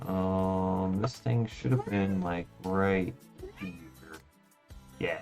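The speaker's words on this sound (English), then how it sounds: "I'm sure you guys can hear my kitty crying" A pet cat cries with a string of drawn-out, plaintive meows, loud and close. A person talks briefly between the cries.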